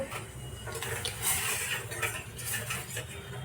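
A spoon stirs sugar into milk for coffee, clinking lightly against the cup or pan in a steady, close run of small scrapes and taps, with no voices over it.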